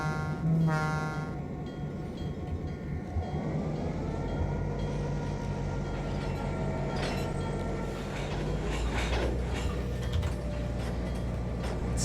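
Simulated train in Trainz 2022 on a Moscow route, a steady rolling rumble of the locomotive and freight cars with mechanical clanks and a rising tonal engine drone, continuous and close, no talk.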